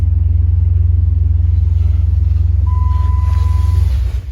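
A car engine idles with a heavy, pulsing rumble, a short electronic tone sounds near the end, and the engine cuts off as a remote start shuts it down.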